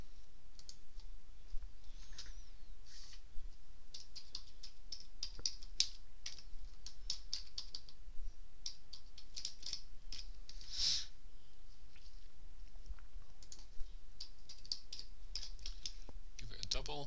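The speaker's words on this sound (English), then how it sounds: "Let's just type that in up here." Code is typed on a computer keyboard in quick, light, irregular clicks, fairly close, with a faint voice murmuring underneath.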